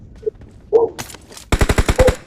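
Sniper gunfire in PUBG, the video game, a loud close burst of about seven rapid sharp shots after a few brief faint sounds.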